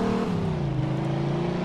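A car in the video game Mafia 2 drives and accelerates, its engine tone gliding upward in a continuous close drone for under two seconds.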